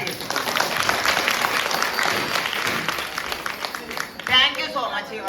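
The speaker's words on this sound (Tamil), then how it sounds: "நாடகம் நல்லா இருந்ததுன்னா ஒரே ஒரு கைத்தட்டல் கொடுத்தால் மனசார ஏற்றுக்கொள்ளும்" An audience applauds at the close of a Tamil women's comedy stage play, steady clapping that stays dense and even for several seconds, then a louder burst near the end.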